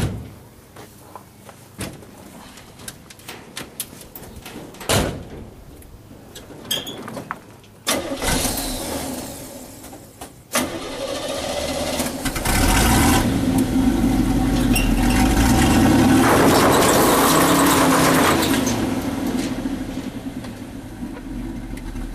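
An old GMC Jimmy truck fitted with a Gov-Lock locking rear axle starts up with clunks and door thuds, then its engine revs loudly and drives under strain, a steady close roar swelling and easing over many seconds.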